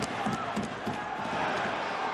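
Arena crowd at a 2018 AHL Calder Cup Finals Game 7 ice hockey game in Toronto, a steady loud roar of many voices reacting, dense and continuous throughout with no single voice standing out.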